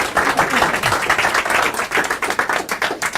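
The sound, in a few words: audience round of applause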